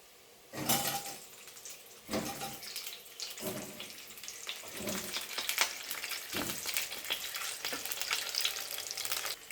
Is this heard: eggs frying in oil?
yes